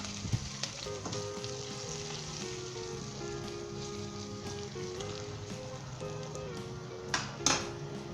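Aloo palak frying in a pan with fried onions, a steady continuous sizzle throughout with a few faint clinks of stirring, no voices.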